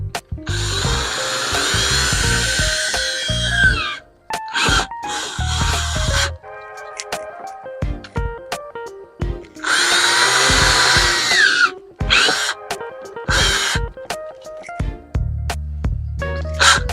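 Power drill boring through plastic during an aluminum half-door install on a CFMOTO UForce 1000 XL side-by-side, loud close bursts of whirring with pauses and clunks between them.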